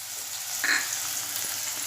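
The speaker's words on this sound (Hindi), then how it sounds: "प्याज थोड़ी नरम होने तक हम तेल में भुनेंगे, ज़्यादा लाल नहीं करेंगे, थोड़ी नरम होने तक। अब मैं इसमें टमाटर डाल रही हूँ।" Onions frying in oil as tomatoes go into the pan, giving a constant bright sizzle with a brief louder hiss and splatter as they land, close and with no talking.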